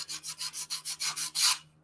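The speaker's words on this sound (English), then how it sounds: "So just a little sanding," Rhythmic hand sanding on wood, about seven steady back-and-forth rasping strokes, close up, ending with one longer, harder stroke.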